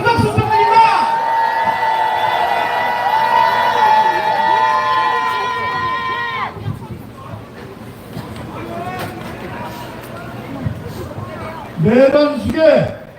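Crowd at an evening candlelight rally in Incheon demanding the impeachment of President Yoon Suk-yeol, roaring with cheers and applause over a sustained wash of noise with a long held tone, then quieter murmuring and a loud burst near the end.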